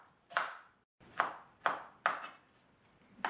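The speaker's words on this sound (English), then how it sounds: "So let's chop this finely now." A knife chops an onion finely on a board with five crisp, close strikes, each with a short decay, coming in a steady, slightly uneven rhythm.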